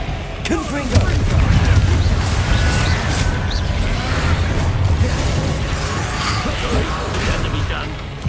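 Heavy Confringo fire-spell explosions in Hogwarts Legacy combat, a dense continuous roar of booms and crashing impacts with busy battle noise throughout.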